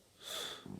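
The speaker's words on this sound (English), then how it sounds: "What are you sniffling for?" A single brief, faint sniffle of breath drawn through the nose, close up and quiet, with no talk.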